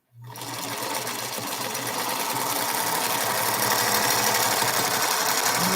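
A sewing machine starts up and runs steadily at close range, its fast mechanical whirring and clatter continuing alone without a break.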